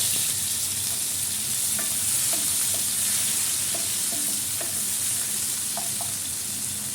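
Garlic and tomato fry in a pan with a continuous loud hissing sizzle and scattered light pops and clicks from stirring, with no voices.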